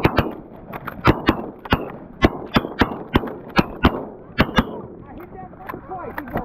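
Rapid, irregular volley of loud gunshots during a bird hunt, a dozen or more sharp bangs clustered close together, with excited voices talking between and under the shots.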